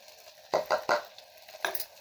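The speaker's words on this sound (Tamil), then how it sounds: "இப்போ இதில் அப்படியே இந்த மஞ்சத்தூள் போட்டுடலாங்க" Onions sautéing in a pan as turmeric powder is added, with a few short scraping stirs over a faint low sizzle, close and alone without talk.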